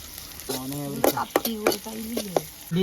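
Curry leaves and garlic sizzle in hot oil while being stirred for a brinjal fry, a close crackling hiss with sharp spatter bursts and a voice talking over it.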